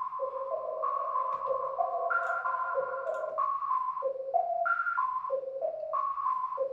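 Synthesizer tone from the Nexus software plugin playing a bright, steady melodic line of sustained notes that step up and down in pitch, loud and continuous with no talking over it.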